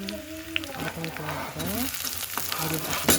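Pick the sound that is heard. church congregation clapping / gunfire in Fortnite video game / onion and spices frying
onion and spices frying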